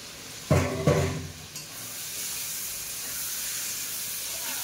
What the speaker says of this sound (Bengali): এইভাবে মশলা কষলে তো মশলা কষানো খুবই ভালো হবে।